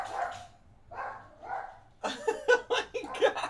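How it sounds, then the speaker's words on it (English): A dog barks in a quick series of sharp, close barks after a few lower, muffled bursts, fairly loud against a quiet room. "What are you barking at?"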